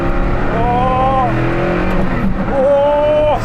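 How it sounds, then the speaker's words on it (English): A Hennessey Venom F5 hypercar on a twisty, narrow road revs hard in two rising surges separated by a brief lift-off, loud and close, with faint voices underneath. "Time to take the Hennessey Venom out for a drive on a twisty,"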